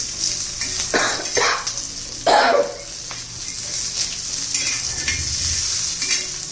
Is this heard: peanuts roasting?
yes